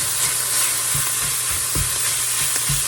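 Jimmy Dean Tennessee Pride sausage fries in a pan while a utensil breaks it apart, giving a loud, constant sizzle with repeated soft scraping and tapping strokes at irregular intervals.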